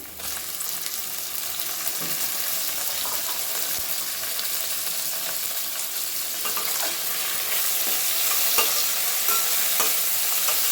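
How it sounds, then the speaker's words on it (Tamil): Chopped tomatoes sizzling and frying in a pan of chicken biryani masala, a constant bright crackle with occasional stirring scrapes. "இப்போ வந்து இதில் வந்து தக்காளி ஆட் பண்ணிக்கலாம்."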